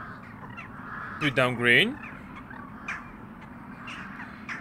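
A crow gives a short run of harsh caws in the horror game Darkness Under My Bed, over a low steady background, while a person speaks briefly nearby.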